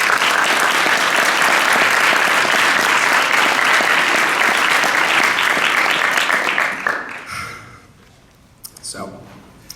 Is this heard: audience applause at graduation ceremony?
yes